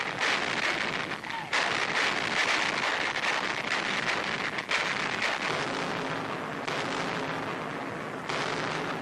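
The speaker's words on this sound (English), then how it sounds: "Manning anti-aircraft batteries, they feed shells and fire them with clockwork precision." Anti-aircraft guns firing 50-millimeter shells in 1942, a dense, continuous roar of blasts and booming reports with brief gaps, loud and harsh on an old newsreel recording.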